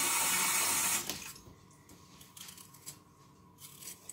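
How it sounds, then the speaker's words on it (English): Running water splashes loudly in a kitchen sink for about a second as a peeled potato is rinsed in cold water, then drops to faint scattered clinks and handling noises. "I'm going to put that one just in cold water to give it a wash. In the sink to all be sorted."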